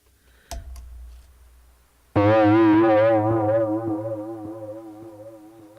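An electric guitar through a Donner Dark Mouse distortion pedal, with no chorus or reverb, sounds one loud sustained distorted chord that slowly decays, after a few faint clicks and a soft pick noise.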